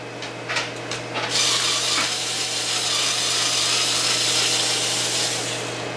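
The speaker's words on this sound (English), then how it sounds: "So let's undo this bottom skid plate." On an HPI Savage RC truck, a screw is worked loose from the bottom skid plate with a power tool. A few clicks come first, then a loud, sustained close-up whirring grind.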